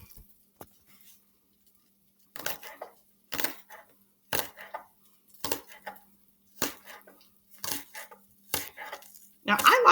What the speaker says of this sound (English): I've taken 3 green onions. And I'm going to cut the ends off. And then I'm going to chop them.